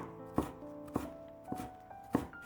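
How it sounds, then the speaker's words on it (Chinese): Knife dicing carrot on a cutting board, four crisp, evenly spaced chops, close and clear with no talk. "最后改刀切成胡萝卜丁"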